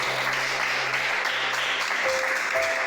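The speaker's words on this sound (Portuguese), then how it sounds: "Palmas para Jesus." A church congregation claps for Jesus, a dense, continuous wash of applause that stays loud and even for a few seconds with no talking.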